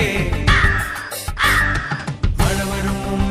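A crow caws repeatedly and loudly over a bright children's song backing, the harsh calls coming in quick bursts close up.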